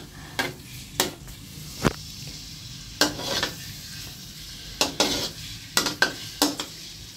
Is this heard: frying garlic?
yes